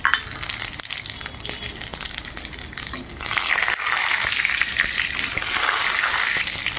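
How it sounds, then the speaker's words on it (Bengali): Panch phoron five-spice seeds hit hot oil in a heated kadai, a crackle that swells into a steady, close sizzle about halfway through. "এবার 5 ফোড়ন দেবো।"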